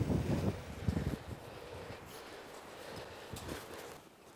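Strong wind buffets the microphone high in the Écrins massif of the Hautes-Alpes, with heavy low rumbling gusts at the start that ease into a steadier rushing background, and no talk.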